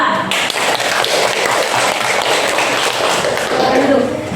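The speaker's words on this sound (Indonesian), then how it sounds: "Silakan kasih aplaus untuk kelompok 2." Classroom applause for a group of students: many hands clapping at once in a dense, steady, loud patter that continues without a break.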